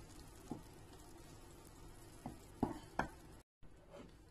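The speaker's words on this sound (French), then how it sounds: "je vais le laisser mijoter encore quelques petites minutes" A tomato mixture seasoned with salt, cumin and black pepper simmers quietly in a pan, making a faint, steady hiss broken by a few soft pops and light clinks.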